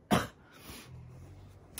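A single short, sharp cough bursts out close by, followed by a quieter breathy rasp and a faint second catch at the end.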